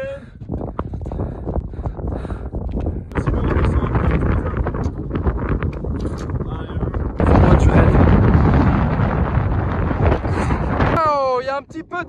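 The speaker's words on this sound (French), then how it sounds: "il y a un petit peu de vent par ici." Gusty wind buffets the microphone on a mountain trail of the GR 20 in Corsica, with loud rumbling surges that swell and ease and brief voices partly masked under the roar.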